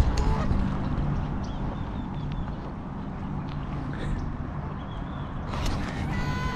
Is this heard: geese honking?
yes